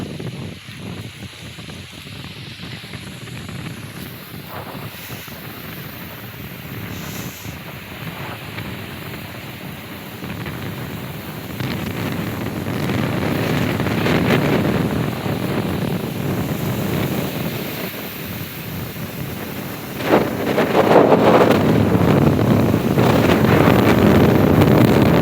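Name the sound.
strong wind during rain blowing on phone microphone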